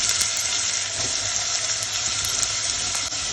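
Onion, garlic and chilli frying in sesame oil for a fenugreek tamarind curry, a steady close sizzle and crackle with occasional stirring clicks, no talking.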